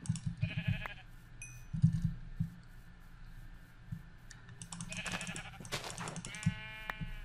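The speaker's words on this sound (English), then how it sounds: "So many sheep." Sheep in the Minecraft video game bleat several times at moderate volume, mixed with rapid keyboard clicking and mouse clicks, no speech.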